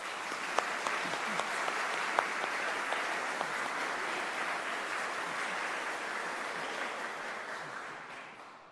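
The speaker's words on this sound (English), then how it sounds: "let's give everybody a round of applause" A church congregation at a traditional worship service applauds graduates, a sustained, even wash of many hands clapping that continues for several seconds before slowly fading.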